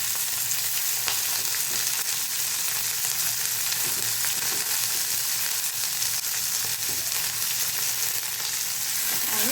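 Mixed vegetables for Bhogi sabzi sautéing in a pan, an even, continuous sizzle with faint stirring scrapes now and then, close and steady throughout.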